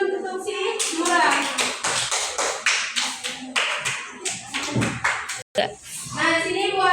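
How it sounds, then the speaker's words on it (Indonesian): A classroom full of children claps for a classmate, steady rapid applause with chattering kids' voices underneath, fading briefly before a teacher's voice resumes. "beri tepuk tangan dulu untuk si Murah"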